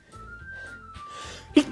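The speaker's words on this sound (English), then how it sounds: "Oh man, sneezing now." A single sneeze bursts out sharply at the very end, close and fairly loud, after a faint whistling tone with quiet background hum.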